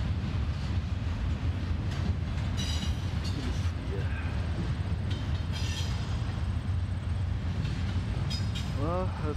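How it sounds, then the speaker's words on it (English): A CSX westbound intermodal freight train rumbles past nearby in a continuous, heavy roar of rolling wheels, with a metallic squeal rising near the end. "that was the last car on the train"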